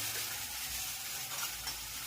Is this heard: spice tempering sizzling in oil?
yes